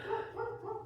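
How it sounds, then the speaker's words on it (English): A pet dog barks indoors, three quick muffled barks evenly spaced over less than a second, somewhat distant and moderately loud, with no talk over them. "what is my dog barking at?"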